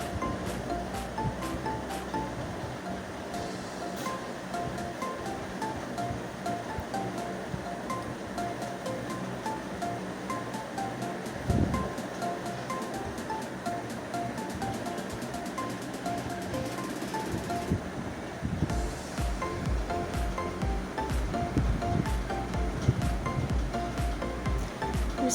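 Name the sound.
masala spice paste frying in a pan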